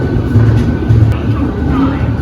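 The 12030 Swarna Shatabdi Express on the Amritsar to Delhi run gives a continuous loud low rumble and rattle, heard close from inside, with no clear speech.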